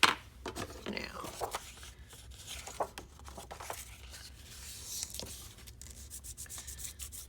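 Soft, uneven rubbing and scraping as paper is burnished down by hand for a 6x6 mini album, close and quiet with scattered small taps and rustles.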